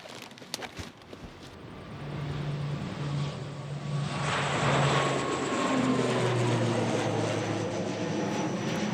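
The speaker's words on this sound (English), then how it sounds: "The passengers and freight go on the plane." A passenger and freight plane flying to Chatham Island, heard as a steady aircraft engine drone that swells from about two seconds in and holds loud and continuous to the end, with no talking.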